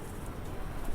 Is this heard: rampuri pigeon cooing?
yes